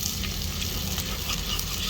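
Garlic, green chili and coriander sautéing in a pan for fish curry, a continuous dense sizzle at moderate level, brief and steady with no talk.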